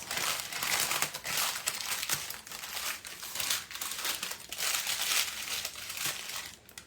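Parchment paper crinkles and rustles steadily as it is pressed into a brownie pan and folded over the edges, close and continuous in uneven bursts.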